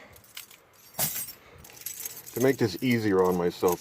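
Worn brass keys for a 1970 Chevrolet C10 pickup jangle and clink on a key loop up close, with a few metallic rattles followed by someone talking over the handling.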